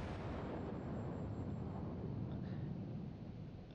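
Heavy naval guns of a Japanese Ishizuchi battleship firing in World of Warships, a sustained loud booming roar with deep low rumble that holds steady and tapers slightly at the end.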